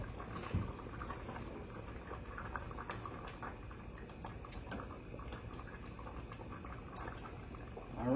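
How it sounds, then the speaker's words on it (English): Igbo white soup (ofe nsala) bubbles gently in a pot, a quiet, steady low burble with faint popping, close by and uninterrupted by voices. "we will cover it up to just boil for maybe another 3 minutes"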